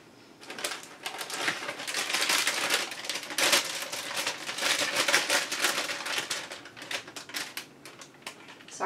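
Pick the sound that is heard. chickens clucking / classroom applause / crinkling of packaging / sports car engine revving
crinkling of packaging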